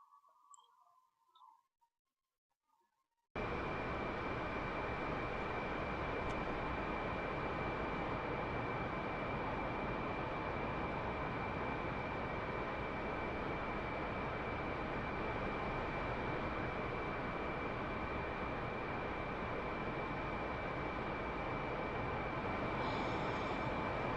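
Military jet engine in the DCS World flight simulator: a steady, loud roar with a thin high whine, starting abruptly after a few seconds of near silence and holding level to the end.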